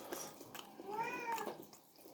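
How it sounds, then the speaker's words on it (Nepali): A cat meows over a phone, one drawn-out, rising-and-falling meow, thin and fairly quiet, heard alone. "फोनमा बिरालो कराएको"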